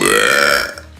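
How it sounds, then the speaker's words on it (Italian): A single loud, close burp lasting under a second, fading out at the end. "Appena mi esce un rutto."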